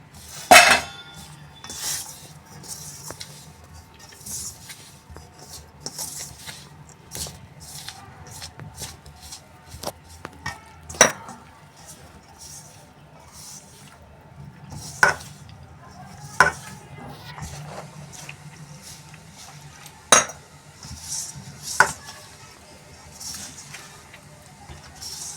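Spoon stirring and mixing a kachori filling or dough in a bowl with lemon juice and coarse wheat flour, heard as repeated sharp scraping clinks at irregular intervals over a quiet kitchen background, with no talking.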